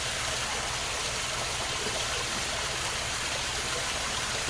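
Water channeling and running steadily through a leaking koi pond, a continuous broadband rush like a stream or small waterfall, close and unbroken for the whole stretch.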